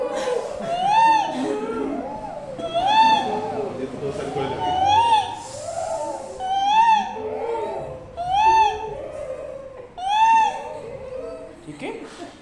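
A voice imitates a koel's call during a yoga breathing exercise, repeating a rising, hooting 'koo-oo' about six times in a slow, even rhythm, each call separated by a pause for breath, close and clear.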